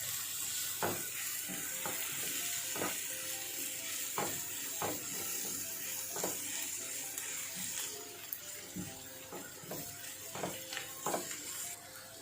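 Onions caramelizing in a pan make a steady close sizzle for twelve seconds, broken by repeated scraping clicks of stirring, with faint background hiss and no talking.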